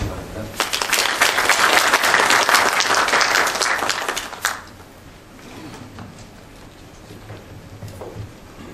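An audience at the 2013 Korea Hanok design competition award ceremony applauds loudly and steadily for about four seconds, then the clapping drops away to a quiet room tone.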